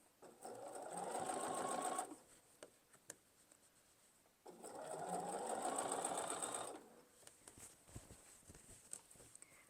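A sewing machine stitches binding along the side of a quilt in two distinct bursts of rapid, whirring needle action, each about two seconds long, with quiet handling clicks and rustles between them.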